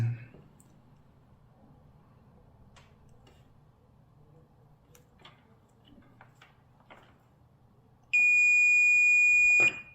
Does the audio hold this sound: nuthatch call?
no